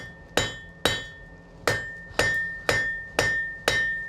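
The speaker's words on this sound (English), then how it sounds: "I'm bringing the hammer down in a wedge shape" A forging hammer strikes hot metal seven times in a slow, steady rhythm, each blow sharp and ringing with a brief decay, as the smith works the end into a wedge and then a square point.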